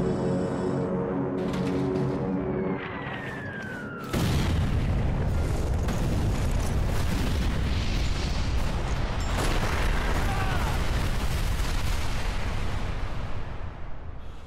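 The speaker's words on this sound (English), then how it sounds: "That's one hell of a bombing run." A bombing run in Sniper Elite 4 hits with a low boom, then a long, loud, rumbling roar of explosions follows, broad and sustained over a droning aircraft-like tone, with no voices.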